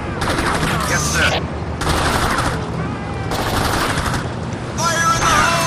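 Sustained suppressing gunfire in the Xbox tactical shooter Ghost Recon 2, a government-district firefight: loud, dense bursts of automatic weapons coming in waves with brief lulls, continuous across the whole stretch with combat noise around it.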